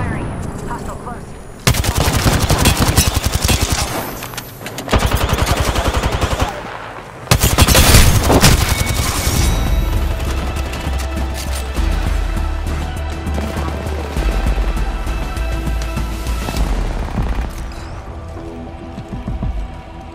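Heavy automatic gunfire and explosive bursts from an Apex Legends firefight, loud and dense in sustained volleys with brief lulls and a booming impact near the middle.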